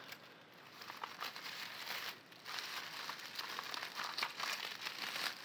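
Paper wrapping around a boxed Game Boy game crinkles and rustles steadily up close, with a busy, continuous crackle and a brief lull partway through.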